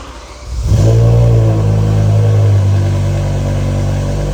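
BMW M6 with a V10 engine and a cat and resonator delete exhaust that keeps the factory back boxes, cranking to a cold start that catches and settles into a loud, steady high idle.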